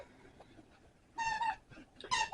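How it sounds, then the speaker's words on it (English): Dogs play with a squeaky toy indoors, giving two bursts of sharp, high-pitched squeaks separated by a short pause over a quiet room background. "My dogs are playing again."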